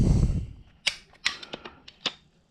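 A burst of low rumble, then several sharp mechanical clicks at uneven intervals, close and crisp, from an Alvey fishing reel's drag ratcheting.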